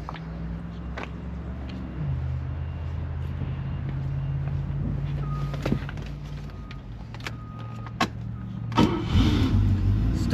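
A 1971 Mercedes-Benz 280SE 3.5 Euro coupe is cold-started: the starter cranks briefly, then the engine catches and settles into a steady, low idle, heard up close with no talking.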